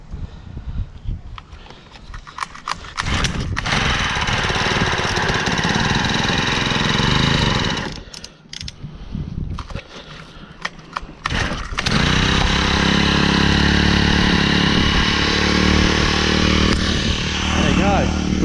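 A small engine starts from cold with the choke off. It sputters briefly, catches, dips, then settles into a loud, steady close-up running drone while people talk nearby.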